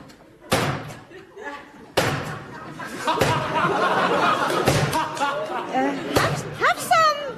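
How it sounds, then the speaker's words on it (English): A door slams shut with a loud thud in a radio comedy scene, followed by further thumps amid chatter and laughter, with voices talking throughout. "Shut the door if you would be so good."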